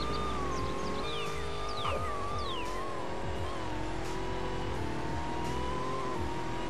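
Truck engine in a Roblox Greenville driving game, revving and quickly climbing through gears, a continuous close hum with pitch dips at each shift and small chirpy effects scattered over it.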